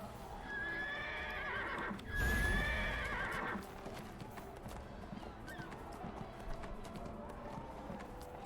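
A parade horse in the video game Neverwinter gives a loud whinny over a steady clip-clop of hooves, which keeps going more softly after the neigh.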